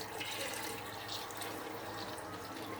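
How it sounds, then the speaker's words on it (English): Meat stock poured into a pot of jollof rice, a steady close splashing and trickling of liquid that runs without a break for about three seconds. "Now I'm going to be adding my meat water to it."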